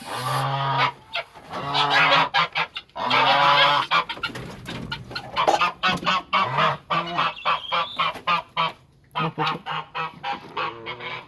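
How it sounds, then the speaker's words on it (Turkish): Many domestic geese honk loudly and repeatedly close by, their calls overlapping in a busy, continuous chorus. "Kazlar da göstereyim"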